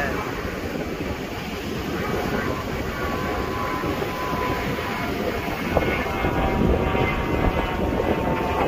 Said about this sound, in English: Airplane coming.